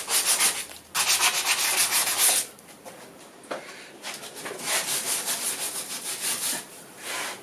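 Coarse 80 grit sandpaper rubbed over old painted, primed fibreglass in a series of loud, raspy back-and-forth scrubbing strokes, broken by a few short pauses.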